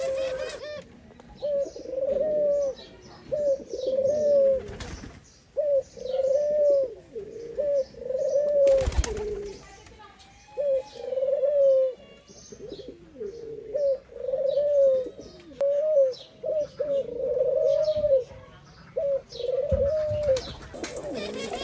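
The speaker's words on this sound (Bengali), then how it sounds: "এই সাদা ঘুঘুটা আগে একটা কবুতরের সাথে জোড়া দেয়া ছিল, এই জন্য ও কবুতর দেখলেই ডাকাডাকি শুরু করে দেয়।" A white dove coos at nearby pigeons in a run of close, repeated throaty coos spaced every second or two, with brief pauses and a few faint chirps around them.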